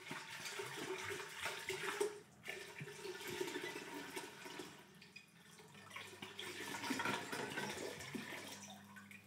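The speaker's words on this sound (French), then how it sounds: "je remplis ma marmite d'eau" Water from a tap rushes and splashes into a cooking pot for a country-style pork stew, a continuous muffled gushing that shifts in tone as the pot fills, faint and with no talk.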